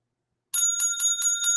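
A bicycle-style bell rung as an alert for a five-dollar super chat on a livestream, five quick bright rings in steady rhythm, close and clear with nothing else around it.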